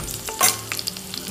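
Ginger, garlic, dried red chilies and green chilies frying in hot oil for a Chettinad tomato chutney, a close, steady sizzle with a brief louder crackle partway through.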